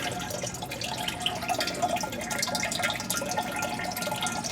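A small stream of water trickling steadily through a PVC pipe in an NFT aquaponics setup, a continuous close bubbling and dripping with no voices.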